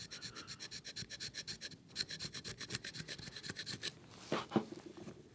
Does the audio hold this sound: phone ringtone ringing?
no